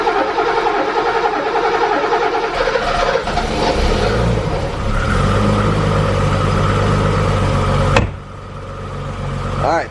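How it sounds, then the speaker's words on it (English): The M30 engine of a BMW 635csi, after fuel delivery repairs, cranks and catches, then settles into a loud, steady idle with a droning tone; a sharp knock sounds near the end. "Now we fire this thing up, check for leaks"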